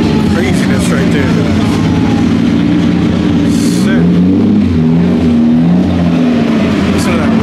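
Lamborghini Diablo supercar engine at a cars-and-coffee meet, a loud steady rumble with rising revs, heard under people talking nearby.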